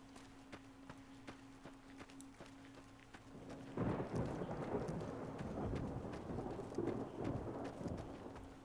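A thunderstorm in Fallout: New Vegas opens with a few light ticking taps, then breaks into a loud, sustained rumble of thunder and rain that carries on to the end without any talking.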